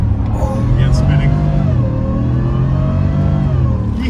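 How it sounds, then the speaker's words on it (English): A 775 HP supercharged Shelby F150 pickup engine holds a loud, sustained rev from close up, with a rising whine laid over the deep engine drone and voices talking faintly. "You hear that supercharger?"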